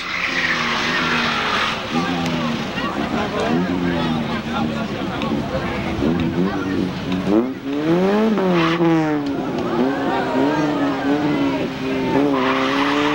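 An 1987 Nissan Sentra and an 1986 Nissan 300ZX racing at Seekonk Speedway, engines whining and rising and falling as they battle wheel to wheel, while a commentator talks over them throughout.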